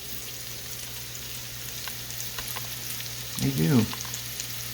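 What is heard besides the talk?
onions frying in a pan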